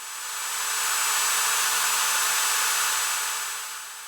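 A power drill bores into a snapped wheel bearing bolt on a Chrysler LX 300 Magnum Charger, using cutting oil. It gives a steady, high-pitched whine that holds for the full stretch, fairly close and uniform, with no talk.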